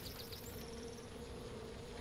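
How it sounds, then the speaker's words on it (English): Bees buzzing in the game Far Cry 5, a steady faint insect drone running through the whole moment under a constant ambient bed, with no talk. "hear bees somewhere."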